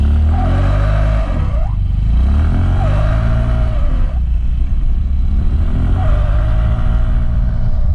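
Yamaha Fluo 125 scooter with an unwanted noise under acceleration: the engine revs up and falls back in three repeated swells over a loud, close, rough low drone with some clatter.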